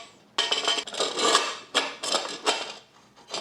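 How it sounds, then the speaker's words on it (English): Puig chain cover being fitted to a Suzuki GSXR1000R with the rear tire still mounted, giving a series of close plastic-and-metal knocks, scrapes and rubbing clatters in irregular bursts, with no talk. "I'm gonna put the chain cover from the right to left"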